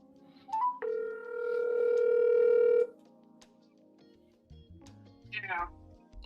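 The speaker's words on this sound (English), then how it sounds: "Let me call Michi." An outgoing telephone call rings out with one long steady tone after a short beep, followed by quieter clicks and a rising burst as the line connects, with speech nearby.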